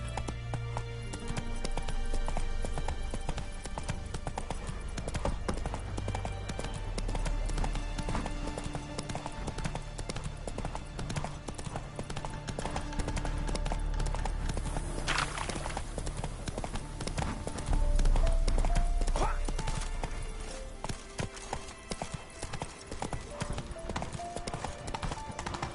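A horse gallops through The Witcher 3, its hooves clip-clopping in a fast, steady, close rhythm that runs for the whole stretch, with game ambience beneath and a brief louder swell near the end.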